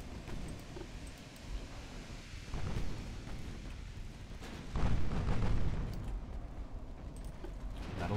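Deep, rumbling booms of torpedo explosions in the naval warfare game Ultimate Admiral Dreadnoughts, swelling over a constant low roar, with a heavier blast building near the middle and rolling on to the end.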